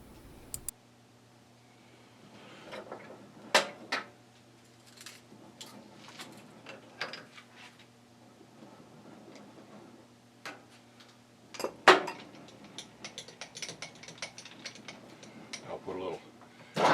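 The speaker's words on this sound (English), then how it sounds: "I'm going to swap out the tools there and put a chamfering tool on and chamfer both sides of it" A chamfering tool cuts the ends of a water-system pipe coupling: a steady machine hum carries sharp scraping ticks and clicks that come and go, with occasional speech.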